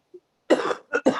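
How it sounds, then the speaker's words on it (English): A woman coughs at the start of a home mobility class: a faint tiny sound, then a close harsh cough followed by two quick rasping coughs in rapid succession, loud against near silence. "Who's coughing?"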